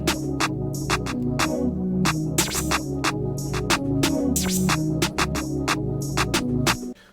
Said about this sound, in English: So this is the Rio slingshot snare.